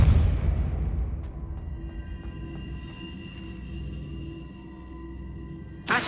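A Depulso spell blast goes off in Hogwarts Legacy, opening with a loud low boom that decays into a long resonant rumble, followed by a second sharp burst at the end.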